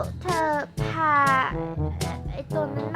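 A cartoon cat in the video game Toca Life World meows several times in quick succession, bright, close and loud, with short pauses between the cries.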